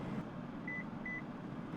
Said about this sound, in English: When you hear the 2 beeps,